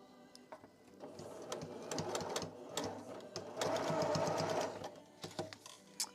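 A sewing machine stitches a plushie in bursts of rapid mechanical whirring, loudest and steadiest in a long run near the end, with brief pauses and clicks between passes.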